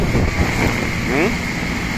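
Gusty wind roars steadily across the microphone during a Dhaka storm, with a broad wash of rain noise and a voice speaking briefly underneath.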